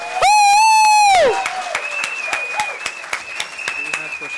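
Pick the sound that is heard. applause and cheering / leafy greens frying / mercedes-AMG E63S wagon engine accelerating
applause and cheering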